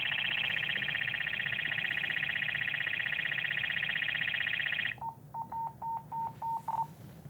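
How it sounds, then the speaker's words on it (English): A firefighter's handheld radio sounds its full emergency alarm: a loud, steady high-pitched tone holds for about five seconds, then breaks into a run of short, evenly spaced beeps. "it's gonna go to full emergency alarm."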